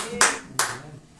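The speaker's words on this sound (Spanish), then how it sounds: "denle fuerte aplauso a nuestro Dios" Two sharp handclaps, about a third of a second apart, ring out in a church during a Christmas sermon, each leaving a brief reverberant tail over a quiet low hum.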